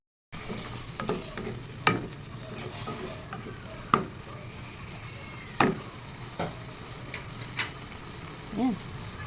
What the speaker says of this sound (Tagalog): tingnan na natin ang ating niluluto na ampalaya con chicken